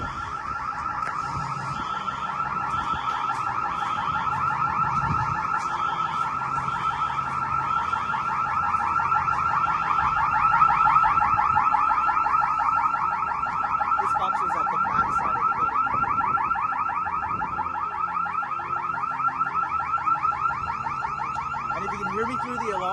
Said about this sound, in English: Alarm's still being set off